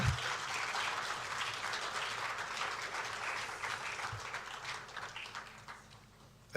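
At a swearing-in ceremony for new security chiefs, a hall audience applauds steadily, a moderately loud, even patter of many hands that gradually thins out toward the end.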